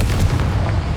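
A Confringo fire spell blasts in Hogwarts Legacy, a single deep, rumbling explosive boom with a heavy low-end roll that stays loud and close through the whole moment.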